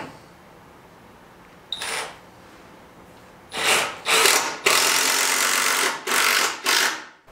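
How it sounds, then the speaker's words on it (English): Power drill driving 3-inch deck screws into a wooden bench, a short whir followed by several loud close bursts of drilling with brief gaps between them. "We're going to do two 3-inch deck screws on each side."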